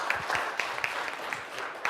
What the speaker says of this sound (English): Shall we clap for our team so far?